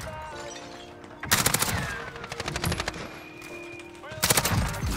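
Rapid bursts of video game gunfire, two loud clustered volleys of sharp shots separated by a quieter stretch, with brief talk in the background.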